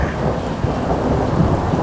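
Heavy rain pours steadily during a storm, with wind and a low, constant rumble. The sound is dense and loud with no voices.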